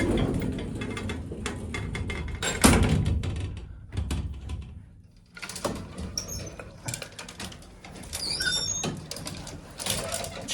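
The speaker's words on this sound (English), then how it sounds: "gotta close the outer door" Heavy outer door of a 1921 Illinois elevator being dragged shut, a stiff rattling and clanking slide with a loud bang partway, then further scraping and metallic clatter, close and harsh.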